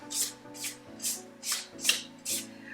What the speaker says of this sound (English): I'm actually just gonna scrape the sides down as well